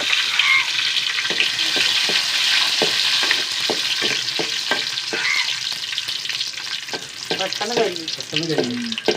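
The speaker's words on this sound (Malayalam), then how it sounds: "മുന്തിരി വറുക്കുമ്പോഴേ രസം ബബിള് പോലെ വരും" Raisins fry in a pan, a steady loud sizzle with rapid popping and bubbling crackles throughout, close up with no voices.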